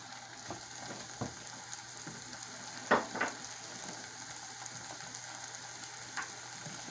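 Vegan chorizo fries in a pan over medium heat, a soft steady sizzle with a few scrapes and clinks of stirring.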